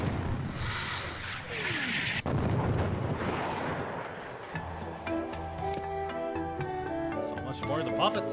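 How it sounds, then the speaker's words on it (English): A really big cannon fires in Escape from Monkey Island with a loud boom and a rumbling blast. A sweeping whoosh comes with it, and game music and voices follow. "Now roll out the really big cannon and blow up those terrorists this instant."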